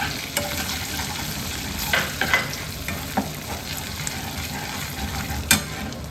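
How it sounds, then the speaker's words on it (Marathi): Whole spices crackle and sizzle in hot butter in a pan, a steady frying hiss with a few sharper pops and stirring scrapes, no talking. "इथे मी आता बटर टाकलेलं आहे कढईमध्ये, त्याच कढईत, आणि अख्खा मसाला तो टाकूया आपण"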